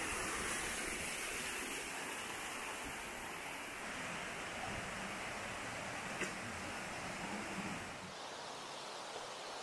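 Shiogawa Taki, a waterfall in Japan, heard as a steady, dense broadband roar of falling water with no breaks, moderately loud and continuous.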